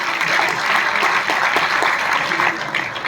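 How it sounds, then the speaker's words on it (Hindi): A crowd claps loudly at a company event where a newly promoted member is sharing his experience, a dense, sustained burst of applause with faint voices underneath. "मेरे माता पिता के लिए तालियां होनी चाहिए"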